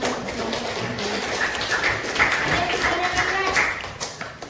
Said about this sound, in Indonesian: Oke, kasih tepuk